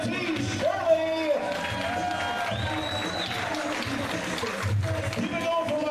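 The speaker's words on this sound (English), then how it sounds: "keep that nice round of applause going for Mr." An audience at a live show applauds and claps steadily under a host's amplified voice, the crowd noise holding at an even level throughout.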